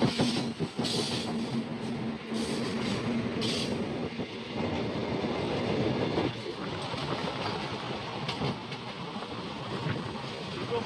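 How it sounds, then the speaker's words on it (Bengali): Two freight trains run side by side, with a loud continuous rumble, rattling wagons and clickety-clack of wheels heard up close from aboard one train, with occasional metallic squeaks. "একটা মালগাড়ি আরেকটা মালগাড়িকে ওভারটেক মারছে।"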